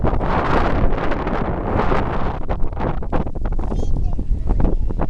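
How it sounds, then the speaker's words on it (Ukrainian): Strong wind buffets the microphone in heavy, roaring gusts throughout a walk in the first snow, with a voice faintly mixed in beneath the noise. "Вітер великий, так."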